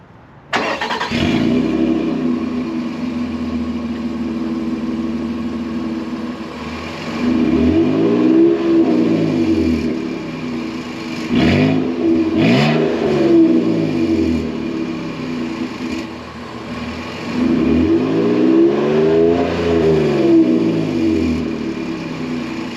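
A 2024 Nissan Frontier SV Hardbody V6 engine revs repeatedly, three loud swelling revs rising and falling over a steady idle, close up with no talking.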